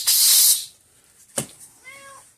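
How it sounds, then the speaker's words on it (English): A cat lets out a loud, harsh hiss at the start, then a short yelp and a brief meow, all close by, in a workshop where an electric fence energizer is being opened. "Shut up, cat."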